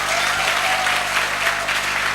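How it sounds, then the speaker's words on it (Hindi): Steady audience applause at a Safe Shop business meeting speech, a dense continuous patter of many hands filling the whole stretch at even strength with no voices over it. "तालियां थोड़ी कम लग रही हैं।"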